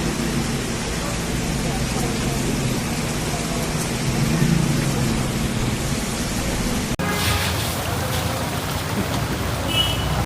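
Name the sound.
rain and thunderstorm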